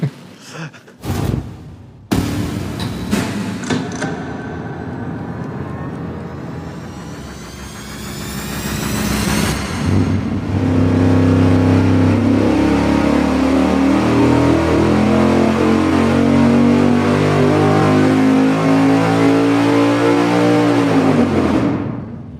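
A V8 engine on a dyno starts with a few sharp bursts, then holds a steady drone before climbing in a long, loud wide-open sweep that rises in pitch and cuts off at the end.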